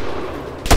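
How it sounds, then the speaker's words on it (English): A single loud burst of gunfire from the Arma 3 military video game, a short sharp blast cutting in near the end of a brief stretch of dense noise, with no talk over it. "Engage that machine gun!"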